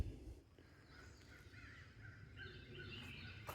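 Crows caw in the distance at artesian springs in Elmore County, Alabama, a few faint calls over soft outdoor ambience.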